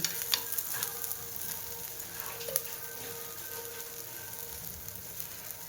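Paneer paratha fries in ghee in a pan, a steady close sizzle and crackle with occasional small pops, no talking over it.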